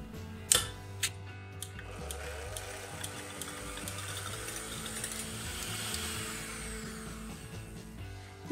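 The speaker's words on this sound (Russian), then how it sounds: "Добавляю щепотку соли и взбиваю миксером на высоких оборотах" An electric hand mixer runs on high speed, whipping egg whites with a pinch of salt, a steady mechanical whir with rattling beater clicks throughout, moderately loud and close, with no talking.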